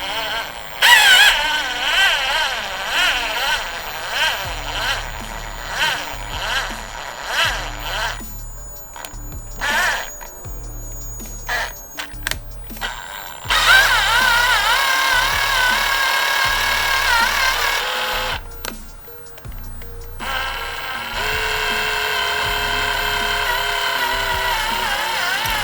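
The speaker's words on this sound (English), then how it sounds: "start drilling slowly" A power drill drills slowly into metal on a Range Rover Sport 5.0 V8, whirring in repeated bursts, starting and stopping, its motor whine rising into longer sustained runs near the end.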